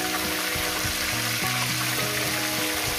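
Rohu fish heads frying in hot oil, a loud continuous crackling sizzle with tonal bubbling and spattering throughout, close up and without talk.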